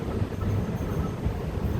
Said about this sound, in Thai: รถไฟกำลังมานะครับ ตอนนี้นะครับ